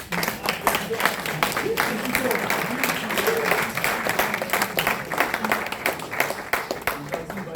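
Group of football club coaches and staff applauding at an indoor club presentation, steady dense clapping throughout with voices and crowd murmur mixed in.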